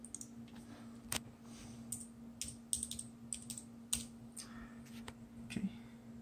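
Typing on a computer keyboard, a quiet, close patter of irregular keystrokes with a few sharper clicks over a faint steady hum, no speech.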